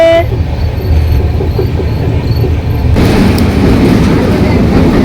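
A Duronto Express rolls along the rails with a loud, continuous rumble and clatter heard from inside a carriage, growing denser and brighter partway through, with no talk over it.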